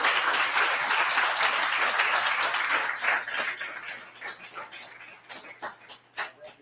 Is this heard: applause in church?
yes